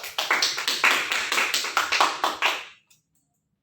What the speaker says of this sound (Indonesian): kita kasih tepuk tangan buat Adira